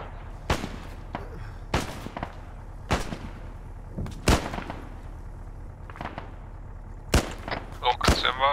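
Rocket and missile fire in the Arma 3 video game, a series of sharp, loud blasts and booms spaced irregularly, some followed by rumbling tails, with a voice speaking between the shots.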